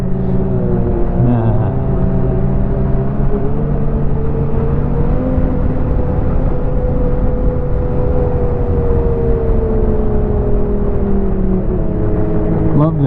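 Ski-Doo Renegade X 900 Turbo snowmobile riding through fresh snowfall, its engine holding a steady, close droning tone with a slight pitch drift and no pauses.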